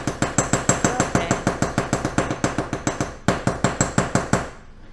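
A hammer strikes a metal stamping blank resting on a bench block to texture a moon phase necklace, giving fast, evenly spaced, sharp ringing blows that pause briefly and then resume, close and loud.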